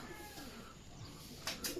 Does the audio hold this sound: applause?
no